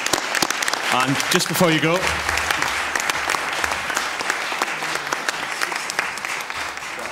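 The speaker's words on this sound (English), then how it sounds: "Maybe one final round of applause, please, for our speaker." An audience at an annual teachers' congress applauds a guest speaker, dense clapping running steadily while someone talks over it briefly near the start.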